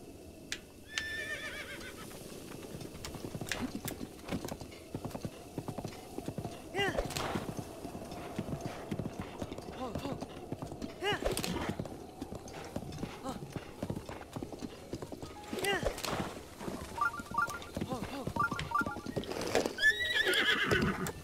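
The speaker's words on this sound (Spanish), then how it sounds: "Ahí viene tu secuestrada." Horse hooves clip-clopping in a steady rhythm with repeated neighs and whinnies in The Legend of Zelda: Breath of the Wild, fairly close and loud throughout, with game music and effects mixed in.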